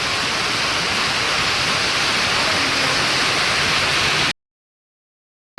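Heavy rain pours down in a dense, steady roaring hiss that continues loudly and then cuts off abruptly into silence.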